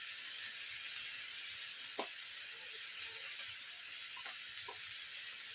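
Crushed spice paste dropped into a well among sautéing onions for onion thoran gives a steady, close sizzling hiss, broken by a few faint spoon taps.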